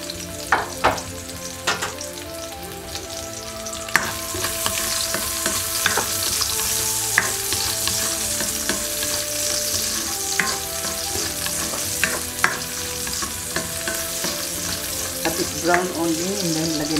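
Sliced patola cucumber stir-frying in a hot pan, a steady loud sizzle with repeated sharp scrapes and clacks of the spatula tossing the pieces, continuous throughout with no talking.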